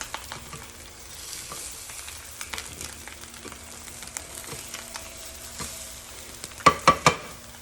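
An egg frying in a hot stone bowl for dolsot bibimbap gives a soft, continuous sizzle with light scattered ticks and a few louder clacks toward the end.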